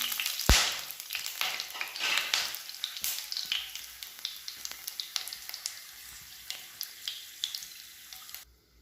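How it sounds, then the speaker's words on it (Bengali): Whole spices (bay leaf, clove, cinnamon, cardamom and cumin seeds) hit hot oil with a sharp opening crackle, then keep sizzling and popping in irregular bursts, close and fairly quiet, before stopping abruptly near the end. "তেলটা গরম হয়ে গেছে। এবার এর মধ্যে আমি ফোড়নগুলো দিয়ে দেব।"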